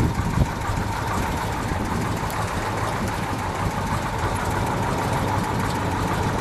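A gold 1971 Dodge Charger Super Bee with a 426 Hemi V8 idles steadily at close range, a dense rumbling burble with a faint lopey knock that holds even for several seconds, no talking over it.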